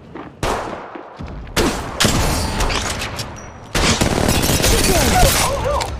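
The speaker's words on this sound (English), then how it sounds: "Opening fire on the enemy." Rapid gunfire bursts from an Apex Legends Mobile match, loud and dense, starting after a quiet moment and recurring in several sustained volleys with game effects mixed in.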